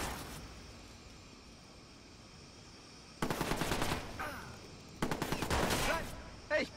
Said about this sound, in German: Da schießt einer!